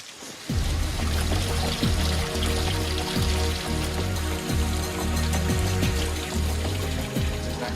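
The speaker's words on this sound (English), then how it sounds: "The water flows down here and into this channel and down into Machu Picchu." Water pours steadily down an Inca stone channel at Machu Picchu, a dense continuous splashing rush that starts abruptly and stays loud and close throughout, with no voices.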